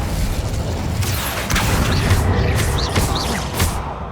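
Incendio fire spell bursts in Hogwarts Legacy combat: repeated whooshing, crackling blasts layered over deep rumbling booms and crashes, loud and sustained throughout.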